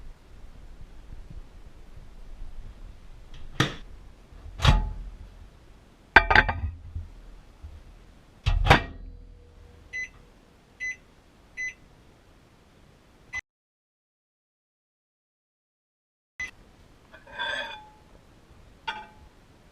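Several clunks and thumps of handling, then a run of short electronic microwave beeps, a pause, and a few more beeps in a quiet room.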